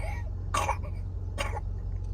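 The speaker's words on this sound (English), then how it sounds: "listen to that sad cough" Two short, raspy baby coughs about a second apart, close by, over a low steady hum.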